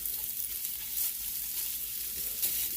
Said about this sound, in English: So what I'm gonna do is go ahead and get that sauteed.